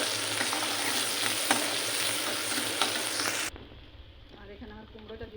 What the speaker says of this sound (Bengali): এখানে আমি রসুন পেঁয়াজ তেলের পর দিয়ে দিয়েছি।